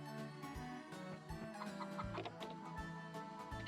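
Chicken clucking from the Harvest Moon: Save The Homeland video game, short repeated clucks over steady game music, fairly quiet and evenly paced, with no talking.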